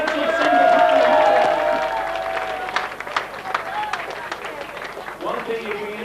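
An outdoor crowd at a June 1999 downhill mountain bike race at Guise Cliff, Pateley Bridge, breaks into scattered applause for the winners, with a sustained tone and voices early on before the clapping continues over background chatter.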